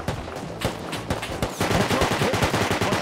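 Rapid gunfire in the game Rust, with several single cracks followed by a sustained automatic burst of closely spaced shots, loud and near.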